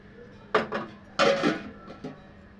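Two metal pot clanks ring out close by on a home stove as a pot is set down to cook rice, followed by a lighter clink, all in a quiet kitchen.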